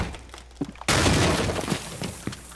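A wooden barricade is torn down in Rainbow Six Siege, a sudden loud burst of splintering and cracking that runs on as debris falls, following a few quieter thumps.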